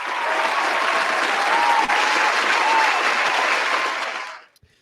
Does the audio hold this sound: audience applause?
yes